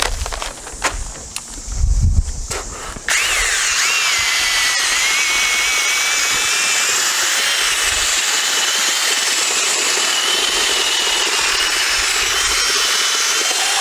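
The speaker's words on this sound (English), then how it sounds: "I have a mixer that's attached to a regular drill, and I'm just gonna mix it up" After a few clunks and bumps, an electric drill with a mixer attachment kicks in and whines steadily, churning thick cement for setting a fence post for a long, unbroken stretch.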